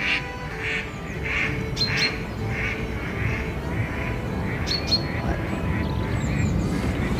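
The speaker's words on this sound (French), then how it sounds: "Il y a des canards. Vous entendez?" Ducks on the banks of the Loire, quacking in repeated bursts at a moderate distance over steady outdoor wind and rumble, with a few sharp bird calls mixed in.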